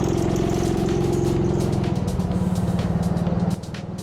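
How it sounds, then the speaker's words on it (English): A go-kart engine at racing speed on an indoor kart track runs with a steady buzzing drone and a faint ticking noise within it, the pitch shifting and dropping toward the end. "have another listen to this engine."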